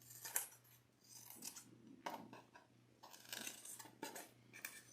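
Scissors snip through fabric pieces for a no-sew Christmas mouse stocking craft in quiet, close, repeated cuts, with short crisp blade closes spaced about a second apart over a faint steady hum.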